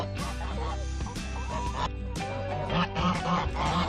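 A flock of geese honking and squawking over one another, loud and close, with busy overlapping calls throughout.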